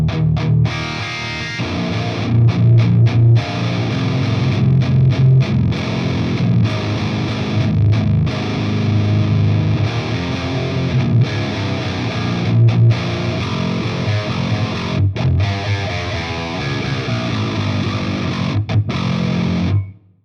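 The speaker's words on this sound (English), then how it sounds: "let's take a listen to how the amp block sounds now without any tweaking" Loud, heavily distorted 8-string guitar running through an untweaked Axe FX amp block, chugging low riffs and sustained chords continuously for about twenty seconds with brief choked gaps and no talking.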